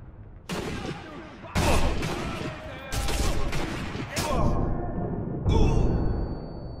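Gunfire from snipers in Sniper Elite V2 bursts out in several loud, close reports spaced a second or so apart, each trailing into rumbling echo, with a brief metallic ring near the end.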